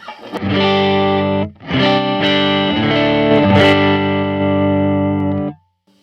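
Distorted electric guitar chords through a Fender Mustang GT 100 modelling amp ring out loud and thick, with a brief gap between strums and sustained notes fading to silence at the end.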